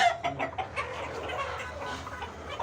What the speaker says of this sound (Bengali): এইসব মুরগি ভ্যাকসিন করা হয়েছে আর এইসব মুরগি ভ্যাকসিন এখনও বাকি আছে